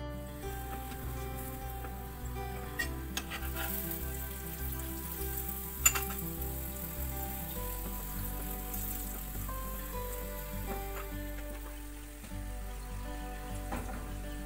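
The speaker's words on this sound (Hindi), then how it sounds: "फिर इस तरह हम चम्मच के साथ थोड़ा थोड़ा इसको ऊपर से दबाएंगे ताकि अच्छी तरह सारा पराठा" A dry milk paratha sizzles steadily in a hot pan while a spoon presses it down, a continuous close frying crackle with a low rhythmic hum underneath and occasional light taps.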